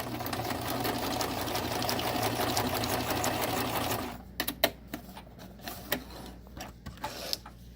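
A Singer Tradition sewing machine runs continuously, stitching a wider zigzag stitch in a fast, even rattle for about four seconds, then stops, leaving scattered clicks and taps.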